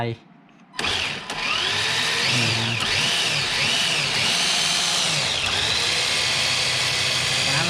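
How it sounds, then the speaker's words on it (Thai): After a brief hush, the electric motor of a YIKONG YK4102Pro 1/10 rock crawler whirs up loudly and holds a steady high whine, its pitch swooping up and down as gears shift by remote, with someone talking underneath. "กดชแนล3จะเป็นการเปลี่ยนเกียร์"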